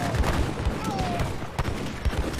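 Artillery fire in an Age of Empires match, a dense rumble of booming cannon shots and battle noise that runs throughout, loud and overlapping, with faint game sound effects layered over it.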